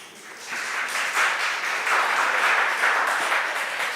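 An audience at a student speaking event gives a round of applause, a full wash of clapping that swells slightly and holds steady, with no talk over it.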